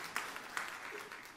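Church congregation applauding during a Christmas Eve service, a soft, distant wash of clapping with a few brighter bursts, fairly faint and diffuse.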